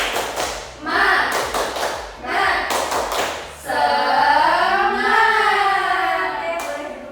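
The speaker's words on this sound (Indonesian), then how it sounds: "Tepuk semangat." A classroom group claps in a rhythmic cheer, bursts of sharp claps in patterned bursts, followed by children and a teacher voicing a drawn-out sung chant.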